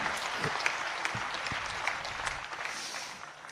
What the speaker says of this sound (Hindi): उसकी संचालन क्षमता के लिए एक बार सदन जोरदार तालियों से उसका स्वागत करे